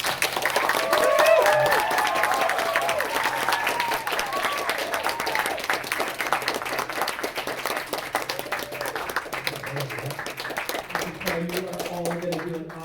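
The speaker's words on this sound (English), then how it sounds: "give them all a round of applause" A college audience at a stage hypnosis show claps and cheers loudly and continuously, dense rapid clapping with scattered whoops throughout, and a few voices talking near the end.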